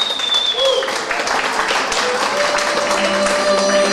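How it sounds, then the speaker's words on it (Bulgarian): Wedding guests applaud the bride in a steady, dense burst of clapping lasting the whole moment, blended with background music and murmuring voices. "Аплодисменти за Даниела"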